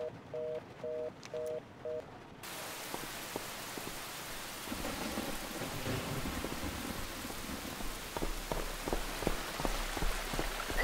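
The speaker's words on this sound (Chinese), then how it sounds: "这下着大雨。" Heavy rain pours down steadily with rumbling thunder building through the storm, loud and continuous, preceded by a few brief beeping tones at the start.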